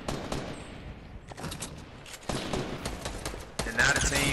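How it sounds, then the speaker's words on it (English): Automatic gunfire rattles through a Fortnite match in dense, continuous bursts, loud and close, with brief shifts in intensity and faint voices mixed underneath. "And now the team west is shooting."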